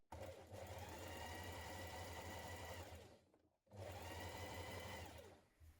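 Sewing machine stitching a dress facing close beside a seam, running in two steady, loud bursts with a short pause between them.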